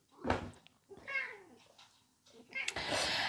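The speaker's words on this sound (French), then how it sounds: "le rouquin miaule beaucoup." A ginger cat in a resonant home kitchen gives a few short meows close by, mixed with brief knocks and rustling noise.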